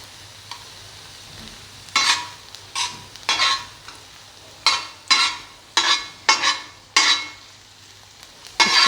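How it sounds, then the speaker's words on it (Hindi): Marinated kaleji (liver) with masala frying on a tawa, sizzling steadily with a series of loud, repeated bursts of stirring and scraping, about a dozen sharp surges close by, with no talking. "अच्छे तरीके से फ्राई हो रही है।"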